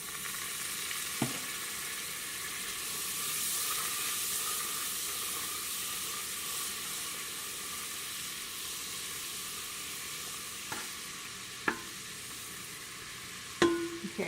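Butter sizzles and fries in a saucepan over medium heat, giving a steady close hiss with a few faint clinks of a utensil against the pan near the end.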